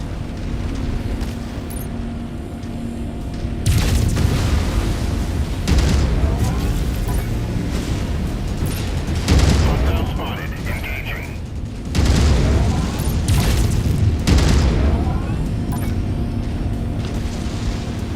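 Heavy booms and rumbling explosions as base buildings are destroyed in MechWarrior 5: Mercenaries, with several loud blasts amid mechanical battle noise and a voice talking over parts of it.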